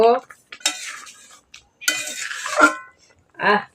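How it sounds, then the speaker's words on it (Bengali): Garam masala powder is stirred into a pan with a metal spoon, giving intermittent scraping and clinking bursts separated by short silences, close and clear. "এবার খানিকটা গরম মশলার গুঁড়ো ছড়িয়ে দেব, দিয়ে একটু নেড়ে দেব।"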